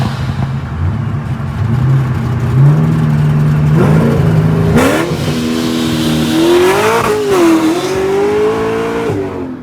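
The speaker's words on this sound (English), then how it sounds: "It's a Pro Charge Z06. Sounds like a damn jet. Sounds real good." ProCharger-supercharged Corvette C7 Z06 on a pull, its engine note rising loud and close as it revs up through the gears, with a whining blower and shifts breaking the climbing tone.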